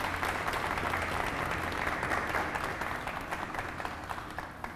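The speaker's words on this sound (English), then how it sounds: "So if everybody would give Ed a big round of applause" Steady audience applause at an emergency medical services station grand opening ceremony, a dense crowd clapping continuously for about five seconds and fading slightly toward the end.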